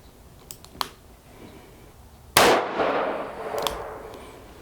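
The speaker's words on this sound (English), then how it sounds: "I'm going to take a shot at the target up there and see what I get." A single loud gunshot cracks through a Caldwell ballistic chronograph toward a target, with a sharp attack and a long echoing decay, preceded by a few faint clicks.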